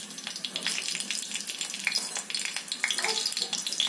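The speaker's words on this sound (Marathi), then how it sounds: "तेल गरम झालेलं आहे. सगळ्यात अगोदर टाकते हिरव्या मिरच्या." Green chillies hitting hot oil in a pan set up a steady, bright sizzle that holds close and fairly loud throughout, with no talking.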